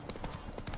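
Horse hooves clip-clopping at a gallop while riding in the video game The Witcher 3, a quick regular beat of hoofbeats close by with no talk over them.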